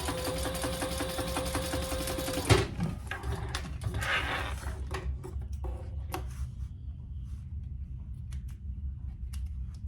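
A sewing machine top stitching a leather strap anchor for a sling, a fast steady needle run for a couple of seconds, then stopping and giving way to sparse clicks and handling taps nearby.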